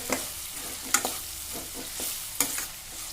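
Chopped capsicum frying in a pan for palak cabbage manchurian, a steady close sizzle broken by two sharp clinks and several soft stirring scrapes, with no voices.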